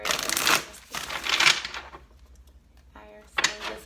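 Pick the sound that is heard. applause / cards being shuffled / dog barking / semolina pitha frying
cards being shuffled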